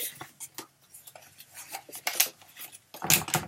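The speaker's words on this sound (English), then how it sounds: "and burnish, or fold and crease, however you want to refer to it" Paper is folded and burnished along a scored line on a scoreboard, making a series of soft, close scraping and rubbing strokes in an uneven rhythm. The strokes grow firmer and brighter toward the end. Nobody speaks.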